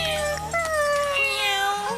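Cartoon lion cubs give high, cat-like meows, a run of several wavering cries close up and loud, with no talking over them.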